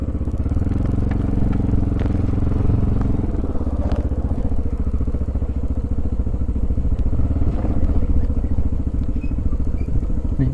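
A motorcycle ridden along a wrecked, muddy rural road just after rain, its engine half sunk in a mud puddle; a steady, loud engine rumble runs throughout with clattering thumps and splashy crackles, and no one speaks.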